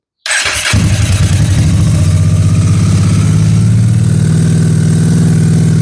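A Honda NTV650 motorcycle engine cranks and catches after a brief starter whirr, then settles into a loud, steady, close-up idle with a throbbing rumble.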